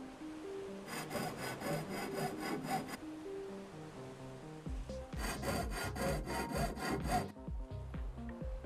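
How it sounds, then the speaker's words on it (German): Wood being sawn in the Ship Graveyard Simulator video game: two bursts of quick, rhythmic back-and-forth rasping strokes separated by a short pause, clear and close. "das könnten wir noch sägen"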